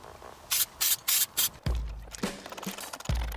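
An aerosol can sprays etch primer onto a Mercedes-Benz car in four short, close hissing bursts, followed by a few dull knocks and handling noises.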